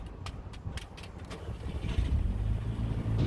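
A Mk5 Golf GTI with the 2.0 TFSI engine is started after an oil and filter change: a few light clicks, then a low engine rumble that builds and holds steady near the microphone.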